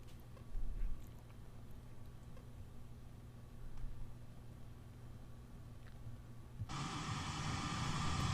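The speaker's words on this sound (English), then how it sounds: "we're playing this pink noise track" Pink noise test track played through the door speakers of a Smart car, cutting in abruptly as a steady, loud broadband hiss after a stretch of quiet cabin hum and faint ticking.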